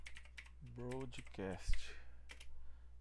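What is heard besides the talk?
typing on a computer keyboard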